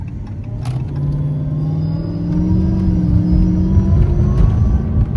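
A Dodge Charger R/T fitted with a 3.0 Whipple supercharger accelerates hard on the street, its close, loud engine rumble and whine building steadily as the revs climb, with no talking.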